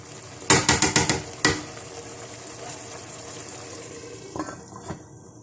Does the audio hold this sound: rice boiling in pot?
yes